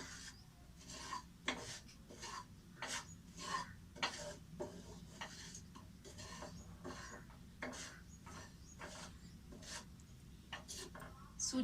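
Semolina being stirred and roasted in a pan, a steady series of dry scraping, rasping strokes against the metal at an even rhythm, close and fairly quiet with no talk.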